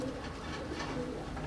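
Soft, low cooing of several racing pigeons fills an enclosed loft, a steady murmur of overlapping coos with no voices.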